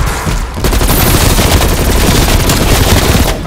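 A sentry turret's machine gun in Call of Duty: Black Ops Cold War pours out loud, dense continuous fire, a sustained rattling barrage that runs almost unbroken after a brief pause at the start.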